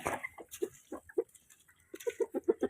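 Chickens cluck in a run of short, rhythmic bursts, close by in a flooded coop, with a brief pause in the middle before the clucking picks up again.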